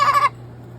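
A single chicken lets out one short, close cluck-like squawk lasting a fraction of a second, then quiet room hum follows.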